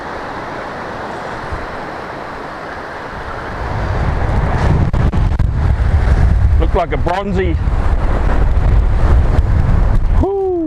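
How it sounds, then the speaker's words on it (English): Strong wind buffets the microphone on a surf beach during surfcasting, a heavy low roar that grows louder midway, with a man calling out briefly over it and fishing-line whirs near the end. "Woo! Very windy."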